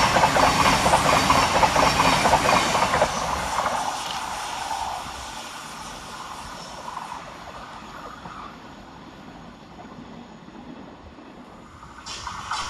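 A Thameslink Class 700 train rushes through Anerley station, loud rolling wheel rattle and clatter up close, then fading into a quieter receding rumble before a brief rise at the end.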